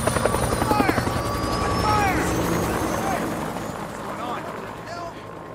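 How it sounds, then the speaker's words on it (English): Helicopter approaching in the Days Gone video game, its rotor thumping loud and close while urgent voices shout over it, the chop fading slightly toward the end. "Chopper! Chopper!"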